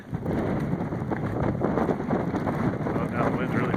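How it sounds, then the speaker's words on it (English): Strong wind during a snowstorm at an outdoor shooting match, a loud, steady roar of gusts buffeting the microphone close up, unbroken throughout. "Oh, now the wind's really picking up."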